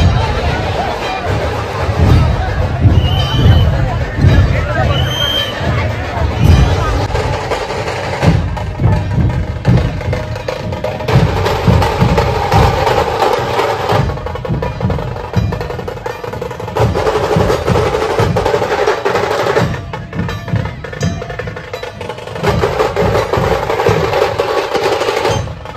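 Dense, loud crowd noise at the Chintamani Ganesh arrival procession in Chinchpokli, with continuous babble, shouting and heavy rumbling from a packed street that keeps up for the whole stretch, with a few sharp high accents standing out above it.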